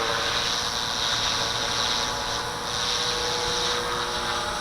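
A V450D01 RC helicopter hovers in high wind in stump mode 1 with higher rotor RPM, giving a continuous close whine and rushing drone with slight rises and dips.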